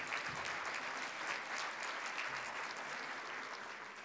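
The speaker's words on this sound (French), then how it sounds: "Vous pouvez les applaudir," Steady audience applause from a crowd at a national federation Q&A session with its administrators, dense and continuous clapping holding at a fairly even level throughout, with no talk over it.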